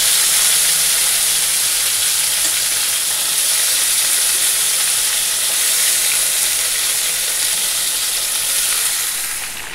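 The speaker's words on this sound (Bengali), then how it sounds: "সেই তেলের মধ্যে এটা ভেজে নেব" Bitter gourd and spiny gourd fry in a kadai of leftover oil that was used for potato chips, giving a steady, close, loud sizzle that holds evenly throughout with no voices.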